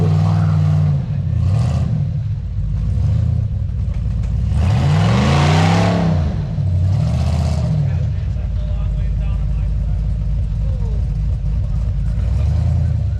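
An LS-powered off-road buggy engine revs hard on a trail, rising and falling in pitch through several surges with a big climb near the middle. Voices talk over the steady, loud engine drone throughout.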